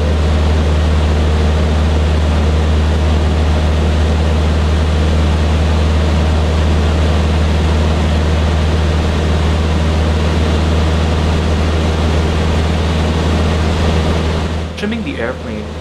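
Steady engine drone of a Cessna 152 light propeller airplane in flight, a loud continuous hum with strong low tones filling the cabin throughout, briefly disturbed by a bump near the end.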